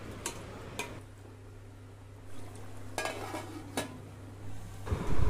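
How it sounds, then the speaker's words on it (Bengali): Marinated chicken is sautéed with ground spices in a pan for spicy chicken biryani, giving occasional sharp metal clanks of a spoon against the pan over a faint steady sizzle and a low hum, with no speech. "মশলাটা কষিয়ে দিয়ে দিলাম মেখে রাখা মাংস। মাংসটা কষিয়ে ঢাকা দিয়ে সিদ্ধ করে নেব।"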